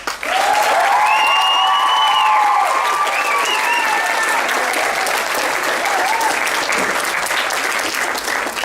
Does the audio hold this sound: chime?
no